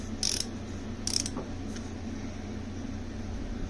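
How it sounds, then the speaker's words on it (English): A torque wrench's ratchet mechanism is flipped between forward and reverse, giving two short, crisp metallic clicks about a second apart, close and quiet, with no talking. "so you have your reverse and your forward mechanism here. Okay, that's forward, and this is reverse."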